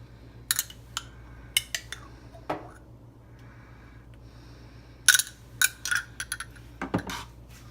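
A utensil scrapes and stirs homemade sauce in a dish for fish tacos, giving a few scattered clinks and soft scrapes in short bursts, with a busier run of taps near the end over a low steady hum.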